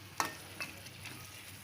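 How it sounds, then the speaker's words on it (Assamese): Meat and masala fry in a pan for a meat curry, a quiet sizzle with a few soft scrapes from stirring. "এইটো দি মোৰ মাংসটো ভাজা হ'ব। মছলাটো যিমান ভাজিব পাৰে ইমান চব্জিটো টেষ্ট আহিব।"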